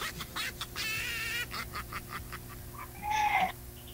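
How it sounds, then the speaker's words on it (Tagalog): A chicken squawks and clucks in a radio studio in short, faint bursts, with one brighter, louder call near the end. "May narinig po akong manok."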